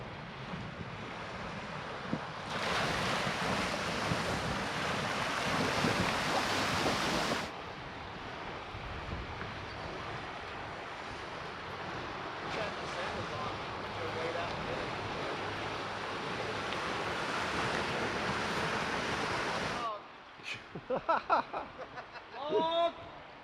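An overland vehicle pushes slowly through a deep water crossing on an Ozark trail, a long, loud churning rush of water and wind noise that surges and then drops away, with voices talking near the end.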